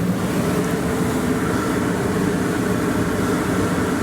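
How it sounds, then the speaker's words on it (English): An RV rooftop air conditioner with soft start and dehumidifier running inside a camper trailer, a steady loud broadband whoosh and low rumble of fan and compressor, constant throughout with no talking. "So I'm going to crank on the AC unit and just take a look at the decibel meter here."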